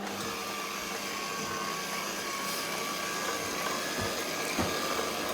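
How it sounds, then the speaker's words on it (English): Electric beater whirring steadily through minced pork bought ready minced, a constant high motor drone with grinding texture and a few slight bumps, heard up close with no talk. "And putting the beater down, we start beating it."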